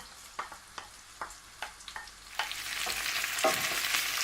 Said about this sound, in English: now we're going to add the onions, garlic and the chilli